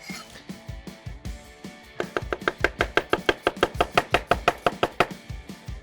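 A knife chops red onion on a cutting board, a few slow cuts at first, then a rapid, even run of about twenty crisp, close knocks.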